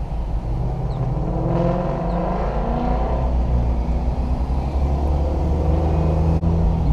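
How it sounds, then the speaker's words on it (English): A Ford Mustang's exhaust rumbles loudly and steadily nearby for about seven seconds, a deep low throb with a slight rise as it passes, and no voices are heard. "That Mustang sounds nasty."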